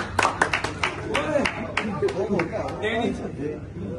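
Applause greets a guest arriving at a party, with a burst of sharp claps near the start and more scattered clapping after, under steady talk from a man.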